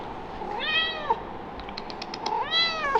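A house cat meows twice, each a drawn-out, rising-and-falling cry, with a few soft clicks between the calls in a quiet indoor room.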